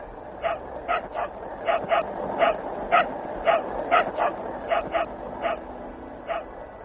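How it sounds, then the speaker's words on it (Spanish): Laika the dog inside Sputnik 2 gives a rapid series of about a dozen short, high yips and barks in an uneven rhythm over a steady background hiss, with the sound faint and distant. "Es Laika ladrando desde algún lugar dentro del Sputnik 2"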